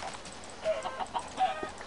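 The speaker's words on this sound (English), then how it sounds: "Oh, the poor chickens!" Chickens cluck in short, scattered bursts close by, with a few higher squawky notes over a soft background hiss.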